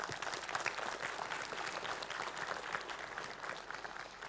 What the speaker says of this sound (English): So give the man applause.